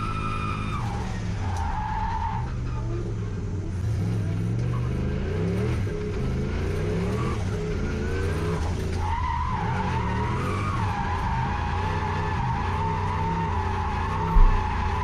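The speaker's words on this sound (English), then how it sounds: "you just accelerate out, light the tyres up and off you go" A turbocharged 1UZ-engined Lexus LS400 drift car squeals and skids its tyres continuously at a drift day, a loud sustained screech with shifting pitch over the engine's drone, ending with a brief thump.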